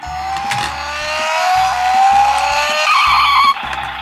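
A voice-controlled remote-control toy car drives forward, its electric motor giving a high, rising whine that holds steady, close and loud, then drops off sharply near the end.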